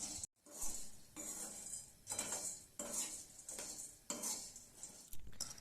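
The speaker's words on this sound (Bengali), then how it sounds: "তো বুদিয়াটা এখন রসের সঙ্গে মিক্স করা হচ্ছে।" A spoon stirs boondi through sugar syrup in a pot, making rhythmic scraping and clinking strokes against the metal roughly once a second, close and moderately loud, with no talking.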